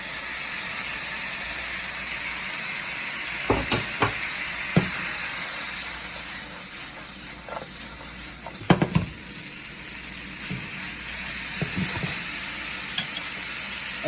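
Bok choy, scallion stems and bean sprouts stir-frying in a pan for Nepali-style mie goreng: continuous steamy sizzle with scattered clanks and scrapes of a utensil, near and steady, no talking.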